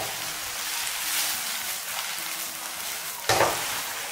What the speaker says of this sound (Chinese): 然后开大火给它翻炒均匀